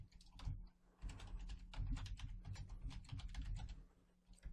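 Fingers type on a computer keyboard in quick, uneven runs of soft clicks, close by and fairly quiet, with a short pause before a few final keystrokes.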